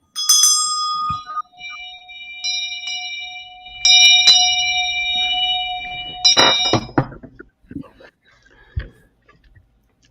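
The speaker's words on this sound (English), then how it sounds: "Ring your bell." A bell is rung several times with bright ringing tones and lingering overlapping tails. A person talks briefly between the strikes.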